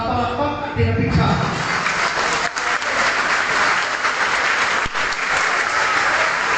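Loud, dense audience applause fills a church laity gathering hall at a conference, sustained and close throughout with no break.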